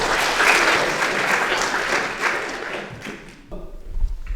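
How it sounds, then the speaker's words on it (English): An audience at a graduate Q&A event gives a warm round of applause to welcome the graduates, a dense, steady clapping that carries on for several seconds, then thins and stops near the end. "shall we give our graduates a really warm welcome and a round of applause?"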